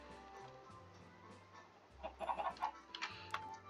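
Minecraft chicken near a village, several quick faint clucks arriving in a short cluster over low, quiet game ambience.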